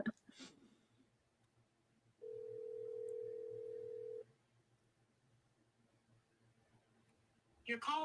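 A single steady telephone tone sounds for about two seconds in a quiet room, with faint clicks at the start and end before a line connects to voicemail.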